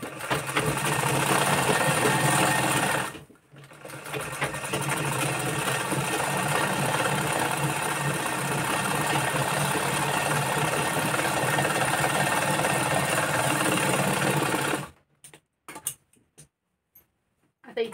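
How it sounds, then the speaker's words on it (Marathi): A sewing machine runs steadily while stitching a katori blouse, giving a fast, even mechanical whir with one brief pause and then stopping in short bursts near the end. "आता याला डबल टिप मारून घेऊ."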